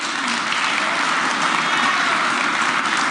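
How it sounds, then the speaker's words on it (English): A crowd claps continuously at an even level, a full, dense round of applause with no pauses. "let's give them a round of applause"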